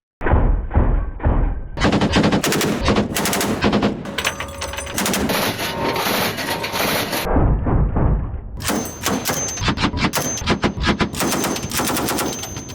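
Marine guard weapons fire at a sea target on the Black Sea: loud, close bursts of rapid automatic gunfire with a few short pauses, heavy thumping shots running through the whole stretch.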